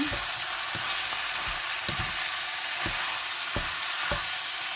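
Ground meat frying in a pan gives a dense hiss with regularly spaced stirring scrapes about once a second, close and steady, without any voices.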